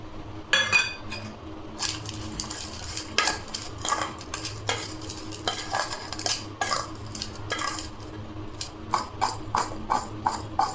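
Ground roasted spices are stirred into raw mango for pickle, a spoon clinking and scraping against a metal bowl in irregular bursts, close and fairly loud.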